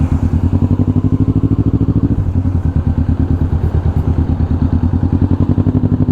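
A motorcycle engine thrums close by on a road trip to San Mateo, Rizal, a loud steady rapid pulsing that shifts rhythm partway through, with no talk.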